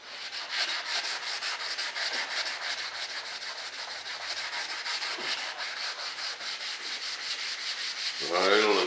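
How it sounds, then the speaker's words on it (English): A 220-grit sheet on a very firm sanding block rubs down the primer coat of a model F-105 Thunderchief RC jet in steady, rapid, close-up back-and-forth strokes. "I'm using real firm sanding block, really firm."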